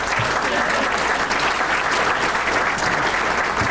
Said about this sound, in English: One more round of applause for all of our winners